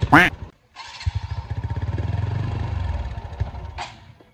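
A motorcycle on a highway runs with a rapid, throbbing idle pulse up close after a brief voice, then sputters out and stalls.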